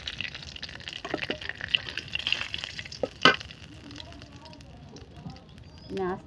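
Onions frying in a pan while being stirred at home, a steady sizzle with scraping stir strokes and occasional clinks, close by, with some background voices.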